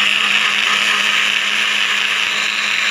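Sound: blender blending onions and chillies

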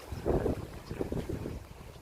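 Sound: strong wind at Lam Pam beach

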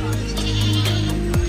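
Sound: goats bleating at a goat market

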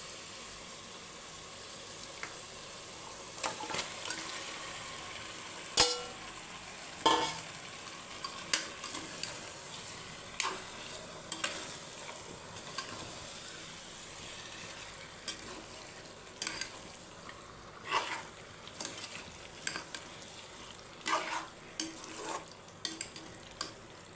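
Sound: chicken frying and being stirred with masala for biryani

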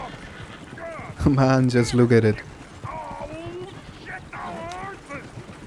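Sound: horses in video game Red Dead Redemption 2

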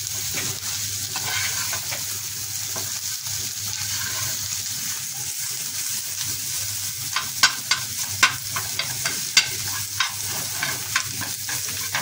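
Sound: frying radish with egg in a pan

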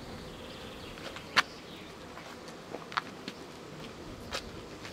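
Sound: honey bees buzzing around a beehive

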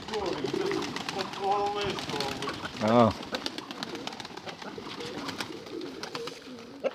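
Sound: pigeons cooing in a dovecote

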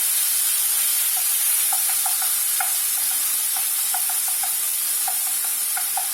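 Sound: tomatoes boiling in a pot for a Turkish pea dish

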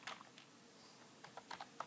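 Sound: typing a terminal command on a computer keyboard

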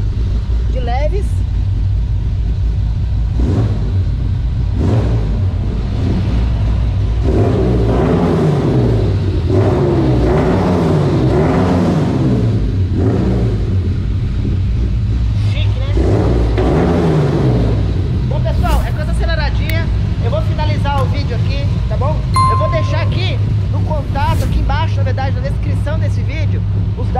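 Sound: Chevrolet Diplomata engine with Weber 40 carburetors revving

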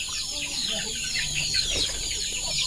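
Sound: chicken clucking

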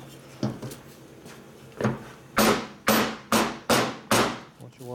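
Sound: hammer banging on a carburetor

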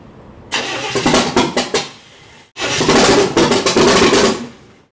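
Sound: engine starting and running in a 1960 El Camino

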